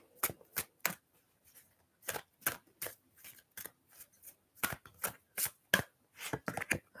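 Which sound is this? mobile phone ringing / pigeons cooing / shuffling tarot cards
shuffling tarot cards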